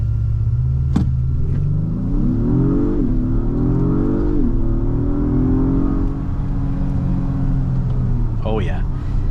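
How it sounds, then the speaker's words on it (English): A 2022 Acura MDX Type S holds a brake-boosted launch, then accelerates hard, its engine note rising steadily through the gears with loud, close cabin rumble. A voice talks over it. "So I want to go ahead and do a quick acceleration right here."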